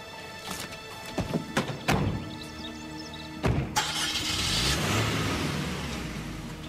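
A car engine cranks and catches after a few sharp clunks and door-like thumps, then revs steadily as the vehicle pulls away, close by with no talk.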